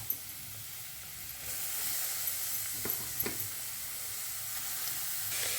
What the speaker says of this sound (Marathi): आता तापलेल्या तुपामध्ये हा गाजराचा केलेला आपण जो किस आहे तो टाकून घेऊया